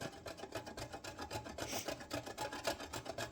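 An avocado seed is scraped on a fine mesh grater, giving steady, close rasping strokes in a quick repeated rhythm at moderate level, with no talking.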